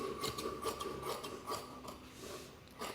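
Canvas cloth being cut with scissors for a blouse back neck, a close, steady rasping snip running through the whole stretch with small repeated crunches and no talk.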